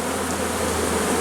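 Honeybees buzz at a hive being moved from a nucleus box to a full hive, a close, continuous drone that stays even through a brief moment with no voices.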